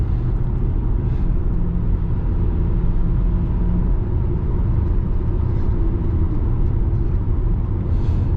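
Interior drone of a BMW E60 550i M-Sport cruising on smooth back roads, a steady low engine and road rumble that holds even and loud throughout with no voices.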